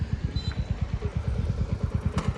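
A motorcycle engine idles nearby with a rapid, even chugging rhythm, joined by brief faint clinks.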